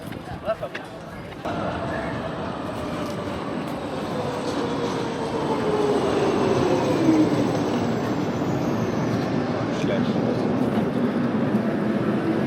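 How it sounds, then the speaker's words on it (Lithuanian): Tram rolling along during a ride in a Lithuanian city, a steady loud rumble of wheels and motor that swells after the first seconds, with a faint tonal whine rising and falling under muffled talk. "Lipam į tramvajų."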